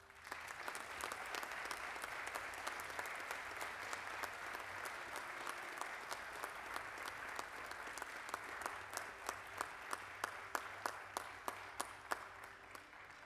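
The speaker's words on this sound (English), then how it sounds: "Please give them a round of applause." An audience applauds at a university commissioning ceremony for new Army second lieutenants, with steady, dense clapping that carries on throughout. Individual claps grow sharper and more distinct toward the end.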